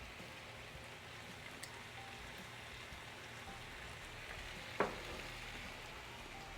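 Food with a dash of rice wine vinegar sizzles steadily in a pan, a faint even crackle like light rain, with one brief clink partway through.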